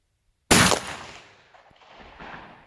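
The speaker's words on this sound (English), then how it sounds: "I'm gonna shoot at the same target here." One loud gunshot as a rifle fires double buckshot at a target outdoors, an abrupt close blast that decays over about a second into a fainter rumbling echo.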